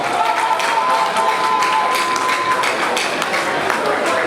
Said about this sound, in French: Si c'est DJ Hero, des applaudissements.